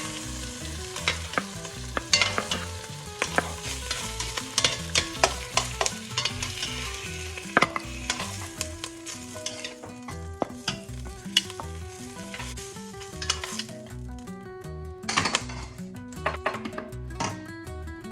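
Sausage sizzling and frying in a soup pot for Portuguese caldo verde, a constant crackling sizzle with frequent scraping stirs and taps of a spoon against the pot, close and alone without talk.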